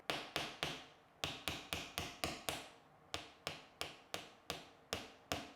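Sharp, evenly spaced knocks of a screwdriver smacking a screw into a wall-mounted plant shelf, about sixteen strikes in short bursts with brief pauses, close and fairly quiet with no talking.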